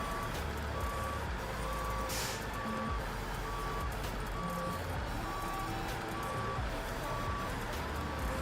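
An International truck in the SnowRunner video game reverses, its backup alarm beeping in a steady, evenly spaced series over a continuous low engine rumble, with no talking.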